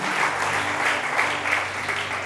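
Congregation applause at a church service in Pekanbaru, a steady, dense wash of clapping that stays loud and even for the whole stretch.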